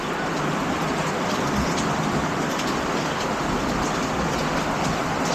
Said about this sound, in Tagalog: So yan, ang lakas ng ulan.